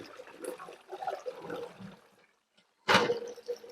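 Tap water runs and splashes over peroxide-coated parts of an Access Virus Indigo synthesizer being rinsed during restoration, a steady close trickle that stops briefly and then gushes back louder.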